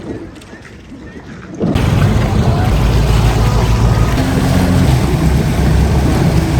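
Tourist motorboats on a canal between Bruges and Ghent: after a quiet opening, a loud engine drone with a steady hum suddenly sweeps in close and holds strong to the end.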